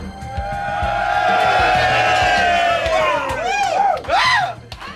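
A paying concert crowd cheers and screams before the band takes the stage, a loud sustained roar of many voices with rising whoops and shouts near the end.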